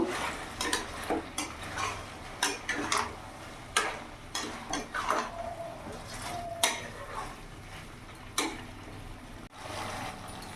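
Chicken stirred with spices in a pan for chicken bhuna masala. A spatula scrapes and taps in irregular strokes, close by, over a low steady sizzle.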